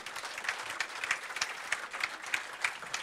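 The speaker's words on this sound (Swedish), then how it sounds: "Det är värt en applåd." Steady applause from an audience at the Jerringfonden prize ceremony, moderately loud and continuous, a crowd clapping together for the prize winner with no voices standing out.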